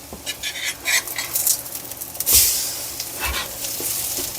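Bread pakoras sizzle in hot oil in a pan while being flipped, with a steady fry hiss and several sharp clinks and scrapes of a utensil against the pan.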